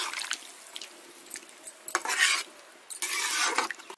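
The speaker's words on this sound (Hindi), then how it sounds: "मैं यहाँ पे 2 गिलास पानी ऐड कर रही हूँ।" Two glasses of water go into a pan of drumstick curry, with soft utensil clinks and stirring followed by two louder gushing splashes that sizzle briefly, all close and with no voices.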